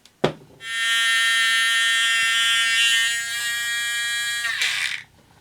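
Restored Radio Shack programmable robot with its motor running, a steady buzzing, high-pitched whine for about four seconds, loud and close, with a brief click at the start and the motor winding down abruptly at the end.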